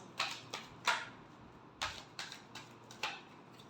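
Tarot cards shuffled by hand in a series of about seven short, crisp riffling bursts with brief pauses between, close and fairly quiet, with no talking.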